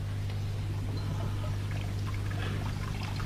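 Water pouring into a wash basin, a steady continuous splashing stream at moderate volume with a low hum underneath and no voices.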